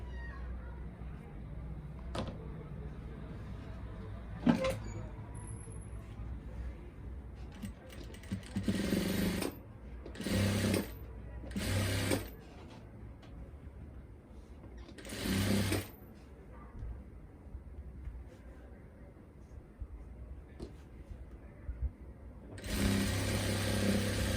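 A sewing machine stitches the belt seam of a straight salwar in short bursts of rapid whirring, several runs with quiet gaps between, close up, with a faint voice and small handling sounds.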